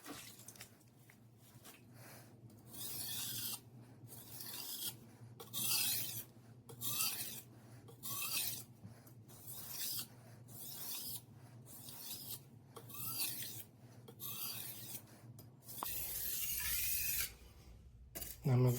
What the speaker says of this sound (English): I'm going to deburr on the stone.